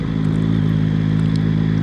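A 2026 Yamaha MT-09 SP motorcycle engine hums steadily while riding through a neighborhood, a close, constant drone with a faint buzzy edge and no talking.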